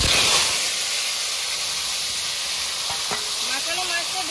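Marinated hilsa fish hits a hot pan over dried red chillies and whole cumin, giving a loud steady hiss and sizzle throughout, with faint stirring clinks near the end.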